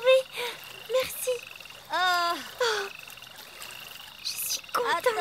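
A toad croaking in an animated French children's fairy tale, a few rising croaks and bursts of varying loudness with a child-like voice tone mixed in, no clear spoken words.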